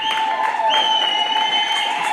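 Crowd at a ceremony for a king breaks into applause and high, sustained ululation, several trilling voices rising over dense clapping, loud and close throughout.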